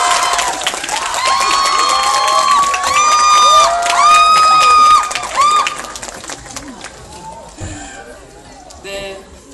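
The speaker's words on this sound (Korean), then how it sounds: "박수 부탁드립니다." A theater crowd at a live talk event for the Korean film 시간이탈자 erupts as the actors and director come out, with loud sustained cheering, high-pitched screams and clapping that swell for about five seconds before tapering off.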